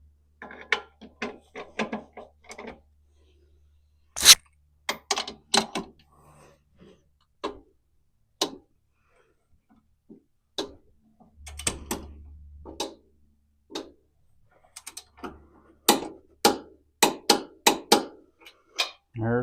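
A wrench ratchets in short clicking bursts, close up, while tightening the lower airbag bolt on a Crown Victoria to 90 foot-pounds, with pauses of near silence between the strokes.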